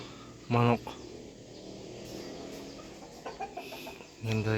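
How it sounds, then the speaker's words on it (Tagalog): A chicken nearby makes short, sharp calls, one near the start and another at the end, with quieter clucks between over a low background hum. "Yan guys, manok."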